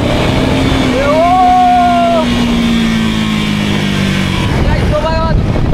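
A KTM Duke 390 motorcycle accelerating hard nearby, its engine note rising steadily in pitch and then dropping off before another short rising burst; loud and close, with wind rush, and no talk.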